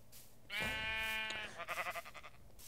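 A Minecraft sheep bleats once, a loud, close, wavering cry lasting about a second, followed by a short burst of choppy, pulsing game noise.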